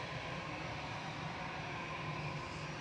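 Lufthansa Airbus A319 airliner departing Manchester Airport for Frankfurt, its jet engines a steady, distant broadband roar, faint and unbroken, with no voices.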